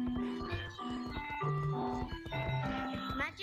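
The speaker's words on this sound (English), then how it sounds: "it kind of sounds like an ice cream truck" Tinkly, looping ice-cream-truck-style melody playing in the VR game Gorilla Tag, a bright electronic chime tune with a steady bouncing rhythm heard clearly throughout at moderate volume.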